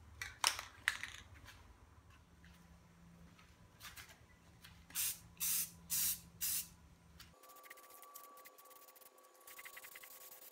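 Several short bursts of primer spray from an aerosol can hiss across a drill press head, the later ones evenly spaced and rhythmic, close and fairly quiet in a still room.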